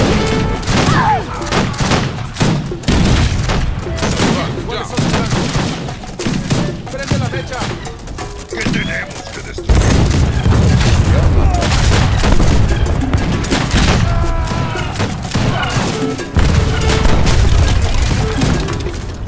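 Musket volleys crackle through an Age of Empires 3 battle, dense bursts of gunfire and booms layered over game music and shouted commands, with a louder surge of massed shots in the second half.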